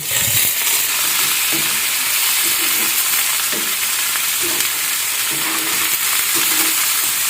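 Shrimp sautéing in a pan with onions, hissing steadily with repeated scraping stirs of a utensil across the pan, close and fairly loud with no talking.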